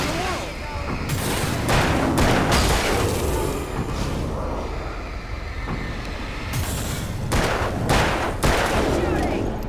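Repeated gunfire in the game Alan Wake, with loud sharp shots landing in clusters under a continuous rumbling din, and panicked voices nearby.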